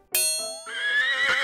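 A horse on a farm, with a goat standing on its back, gives a brief bright neigh that rises after a sharp metallic clang, close and fairly loud.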